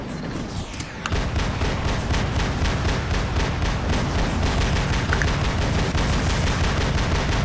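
Robot machine-gun fire from the War Robots video game hammers out in a dense, loud, continuous burst that runs throughout, with no one talking.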